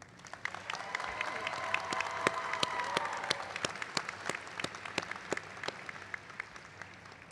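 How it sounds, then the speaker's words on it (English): At a 2023 graduation ceremony for nursing and optometry graduates, the audience gives a round of applause with sharp individual claps standing out from a steady, moderately distant wash of clapping. "Let's give a round of applause for Tao."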